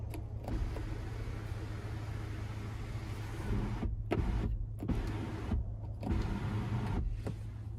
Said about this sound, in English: there we have the power sunroof, so we can tilt or slide that back one touch